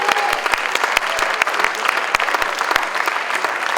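An auction crowd claps briskly during bidding at a charity event, a steady wash of applause with sharp individual claps standing out close by.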